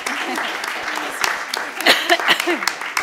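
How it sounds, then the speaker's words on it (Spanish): Applause follows the end of a speech at a panel on victim database models, a steady wash of clapping running throughout while voices talk over it. "me aplaudo yo a mí."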